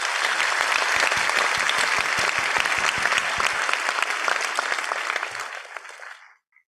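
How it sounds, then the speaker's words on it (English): An audience at a student launch event for an institute in Pune gives a round of applause for a graduating batch, with loud, sustained clapping for about five seconds before it quickly tapers off. "can you have a special round of applause for the batch of 22-24?"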